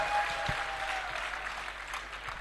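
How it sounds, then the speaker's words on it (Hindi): Audience applause at a live poetry gathering (kavi sammelan) in Udaipur, Rajasthan: a steady, dense wash of many hands clapping at moderate loudness, sustained without pause. "एक बार तालियां होनी चाहिए आपकी जोरदार"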